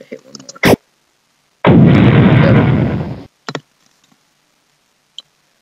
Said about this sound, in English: when I hit the enemy, you heard that pretty loud and obvious explosion